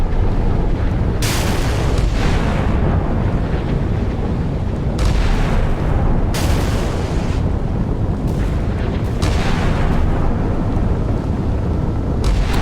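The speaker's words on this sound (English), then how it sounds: "lucky hit from a 5-incher. Sovremenny magazine's gone up." A Soviet Sovremenny destroyer's magazine blowing up after 5-inch naval gunfire in the Sea Power naval combat game, heard as a sustained, loud roaring rumble of explosions with several sharper bursts surging through it, no voices.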